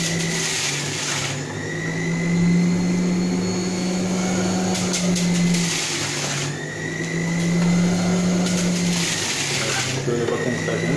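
A Sinbo juicer runs on its first speed while juicing oranges, giving a steady motor whine that rises and dips in pitch over several cycles, loud and close, with no talk.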